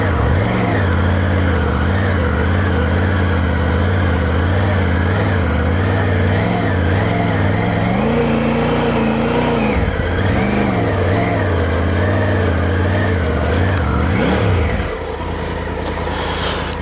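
A vehicle engine bogging down off-road in the Ocala National Forest, a loud continuous drone whose pitch rises and sags unevenly as it strains and labours, dipping sharply near the end.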